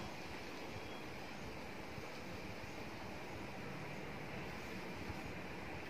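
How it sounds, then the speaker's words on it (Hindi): Strong wind blowing outdoors ahead of rain, a steady, loud broadband roar that holds evenly throughout with no gusting breaks and no voices. "तेज हवा चल रही है, आज बारिश होने वाली।"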